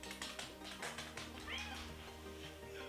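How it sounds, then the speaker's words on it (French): A pet cat meows indoors, faint and somewhat distant, with a couple of plaintive calls over a soft background hum. "Donc là, vous entendez mon chat."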